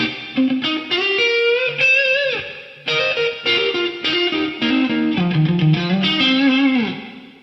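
A guitar plays through a Digitech DSP128 rack effects unit set to a special-effects medium room reverb, giving sustained, shimmering notes and bends with a roomy, processed tail, loud and alone without speech.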